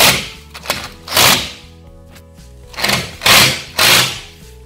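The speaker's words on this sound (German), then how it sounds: "jetzt machen wir Löcher hier rein, in die anderen zwei Stäbe" Power drill boring sideways holes into wooden rods for a DIY canopy bed frame, several loud whirring bursts of a few seconds each separated by short pauses and clatter.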